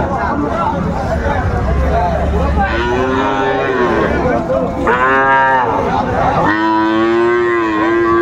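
A Sahiwal bull calf moos loudly several times in long, drawn-out calls, set against the steady babble of a crowded cattle market.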